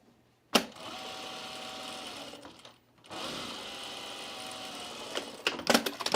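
A sewing machine stitches a garment collar with pad stitching, running in two steady bursts separated by a short pause and ending in a few sharper clicks; fairly close and moderately loud.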